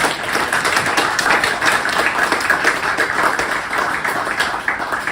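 A round of applause rises from the audience at a design awards talk night, with many hands clapping in a dense, even patter that carries on steadily for about five seconds.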